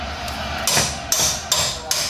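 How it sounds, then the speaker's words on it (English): Four sharp metallic hammer blows ring out at a steady pace while a broken axle is driven out of a Honda Accord, close and loud with nothing else around them. "Keep hammering through. It's almost out."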